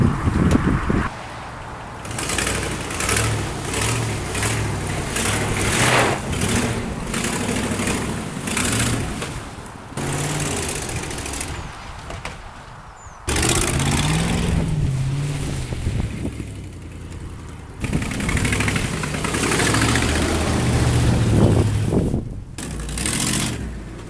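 A Ford V8 engine runs with a rough, uneven rumble, revving up and down in bursts with a few abrupt cutoffs, while wind buffets the microphone outdoors.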